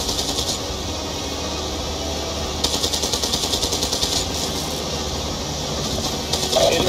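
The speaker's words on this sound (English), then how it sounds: "Vehicle Bravo is under fire." Continuous gunfire in the video game Call of Duty Black Ops 2 during a vehicle convoy firefight, with rapid automatic bursts rattling over a dense rumbling background throughout, growing slightly louder in places.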